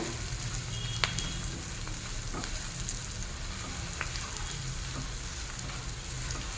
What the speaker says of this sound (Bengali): মশলাগুলো ভালো করে একটু ভেজে নেব